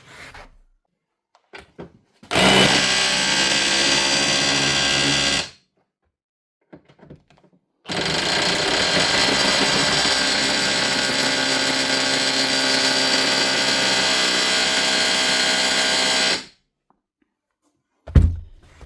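A Bosch GBH 18V/26 cordless 18V SDS hammer drill, freshly fitted with new O-rings and grease, runs loud and close in two steady bursts of about three and eight seconds, separated by silence, with faint knocks around them.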